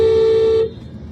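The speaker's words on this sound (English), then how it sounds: "I wonder if it's illegal to drive down the road honking your horn like that for no reason" A car horn sounds in one loud, sustained blast of about half a second close by, then cuts off to leave quiet road background.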